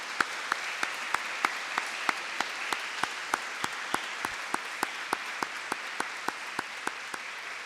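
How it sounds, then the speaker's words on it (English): An audience at a university Orange Shirt Day and National Day for Truth and Reconciliation commemoration applauds. Loud, even clapping fills the room for several seconds, with a regular sharp clap standing out nearby. "give one more round of applause"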